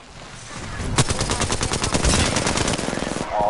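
Rapid automatic gunfire from a video game shootout rattles in sustained bursts for most of the stretch, loud and close, after a quieter lead-in.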